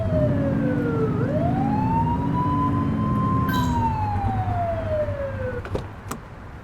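A police car siren in the video game The Precinct, wailing up and down in long sweeping tones over engine rumble, loud and close, with sharp clicks near the end.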